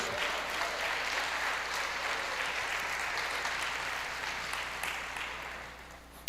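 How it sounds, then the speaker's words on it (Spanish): A church congregation claps during a Sunday worship service, a dense, even wash of applause at moderate distance that holds steady and then tapers off toward the end. "Dele un aplauso al Señor, dele la gloria a Dios."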